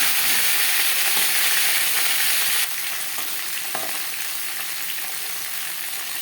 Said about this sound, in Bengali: ফোড়নের সাথে পটলটা ভালো করে মিক্স করে দেবো।